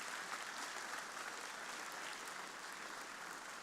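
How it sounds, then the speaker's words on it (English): An audience at a morning forum gives a round of applause, a continuous even wash of many hands clapping at a distance, fairly faint and steady throughout with no talk over it. "we want to give you a round of applause one more time for your time this morning"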